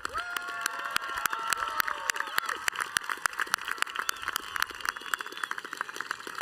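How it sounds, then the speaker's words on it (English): A college graduation crowd applauds with sharp, distinct claps over a background of cheering and high-pitched shouts and whistles, the clapping moderately loud and sustained throughout. "Please join me in a round of applause."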